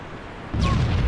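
A booming explosion erupts partway through, from the Pillar of Autumn ship in the video game Halo. It follows a quiet lead-in, then a loud, sustained rumble with a brief sweeping whine on top.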